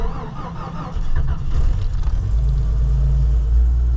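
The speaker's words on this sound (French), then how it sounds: "La première chose à faire, c'est de voir si le Jeep va démarrer." A Jeep left out all week through minus-30 nights starting up, a short cranking whir that catches into a loud, close, deep engine rumble and settles into a steady idle.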